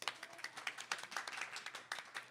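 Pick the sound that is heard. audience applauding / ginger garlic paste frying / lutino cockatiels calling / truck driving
audience applauding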